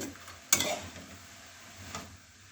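Carrots for gajar halwa being stirred in a pan, a single sharp scrape near the half-second mark followed by a soft continuous sizzle and faint utensil rustle, no voices.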